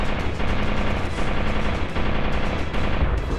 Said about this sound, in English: Use the rear railguns. Open fire!